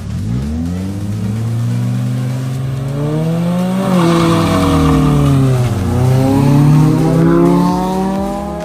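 A Honda Civic and a Civic VTEC racing: loud, close engines rev and climb steadily in pitch, dropping briefly at gear shifts before pulling hard again, with no talking.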